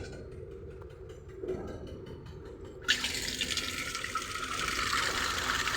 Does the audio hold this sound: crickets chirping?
no